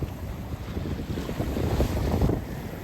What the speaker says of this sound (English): Superb south wind.